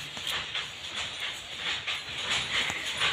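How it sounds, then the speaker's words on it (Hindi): A dog gives several short, sharp yelps and whimpering cries, fairly close, with background noise between them. "बसंती इन कुत्तों के सामने मत नाचना, बहुत जोरों से चिल्लाती है"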